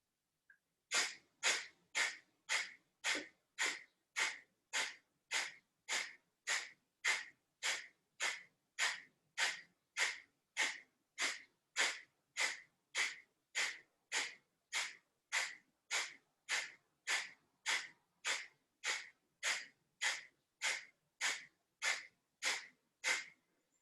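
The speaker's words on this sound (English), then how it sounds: "this breath forces breath out and you passively let your diaphragm recoil" Forceful pranayama exhalations from a Kriya Yoga breathing exercise come in a long, even series of about thirty sharp, close puffs through the nose, each one quickly followed by a silent passive recoil.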